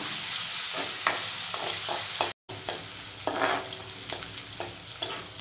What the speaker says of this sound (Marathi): परतवून घेऊया कांदा नरम होईपर्यंत परतवून घेऊया